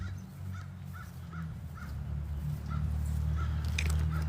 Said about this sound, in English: No, I love crows.